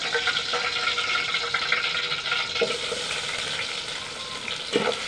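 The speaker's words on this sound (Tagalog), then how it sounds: "Kapag mainit na yung mantika, next na natin ilalagay yung ating pinap na onion." Chopped onion frying in hot cooking oil for a Filipino pork and tomato dish, giving a steady, fairly loud broadband sizzle that runs throughout, with a couple of brief louder crackles and no talk.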